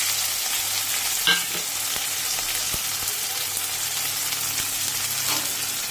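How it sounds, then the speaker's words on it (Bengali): Garlic and onion fry in plenty of hot oil, giving a steady, close sizzle throughout with a few soft clicks from stirring and no talk. "তেলটা একটু বেশি হয়ে গেছে। রসুনটা দিয়ে দিলাম, পেঁয়াজটাও দিয়ে দিলাম, তাহলে ভাজা ভাজা হবে।"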